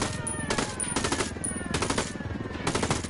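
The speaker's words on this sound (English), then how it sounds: "they're shooting each other" Rapid gunfire rattles through a video game battle, with machine-gun bursts and shots in quick repeated volleys over a constant din of combat noise.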